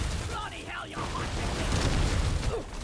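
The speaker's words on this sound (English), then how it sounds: "That's a lot of explosions." Explosions in the video game Deep Rock Galactic: Survivor, a dense, continuous rumble of booms and bursts filling the whole stretch, loud and unbroken with no clear pauses.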